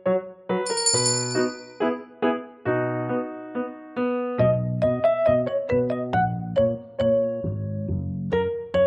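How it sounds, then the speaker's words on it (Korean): A bright chiming bell melody rings out clearly at the start of a school physical education exercise, a quick sequence of struck metallic tones with lingering ring, close and alone without talk. "종소리와 함께 시작해주세요."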